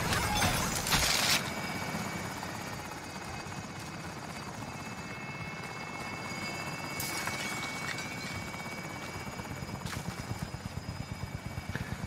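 Video game helicopter holding position, a continuous rotor thrum with steady whining engine tones, close and constant, broken by a couple of harsh noise bursts and a pulsing chop toward the end.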